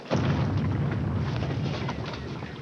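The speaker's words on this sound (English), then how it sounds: "The cannon of Chateau d'If." A cannon fires from the island fortress of the Chateau d'If, a deep booming blast followed by a long rumbling roll that fills the whole stretch, heavy and sustained with no speech.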